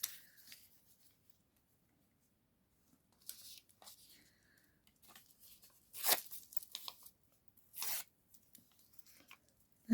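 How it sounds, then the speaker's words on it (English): Material gets ripped down in short, faint tearing bursts separated by quiet pauses, close by with light rustling between. "Let's just rip that down a bit."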